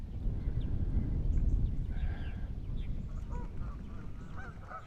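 Several Canada geese honk repeatedly over a rumbling, windy background on eastern Long Island, New York, their calls scattered and moderately distant, with no speech.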